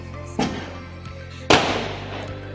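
Firecrackers bursting outdoors during a Karwa Chauth night celebration, two sharp loud bangs about a second apart, each with a decaying crackling tail over a faint background hum.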